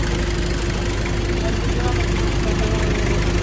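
A hot car engine runs at a steady idle with a constant dense hum and low rumble, loud and close, without pauses and with no voices over it.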